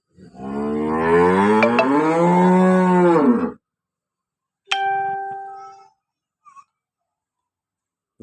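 A cow lets out one drawn-out, loud moo nearby, followed after a pause by a brief ringing tone and then silence.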